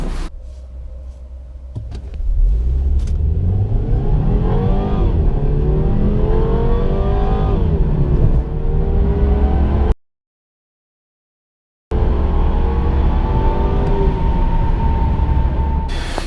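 A MINI Clubman engine revs and climbs through rising pitch as it accelerates from a standstill, shifting gears, with a short break of silence before the engine drone continues.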